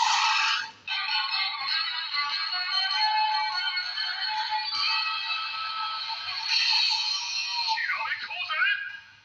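A DX Kiramai Changer toy from Mashin Sentai Kiramaiger plays its electronic henshin transformation sound, a bright tinny jingle through a small speaker, loud and continuous for several seconds before a short warbling flourish at the end.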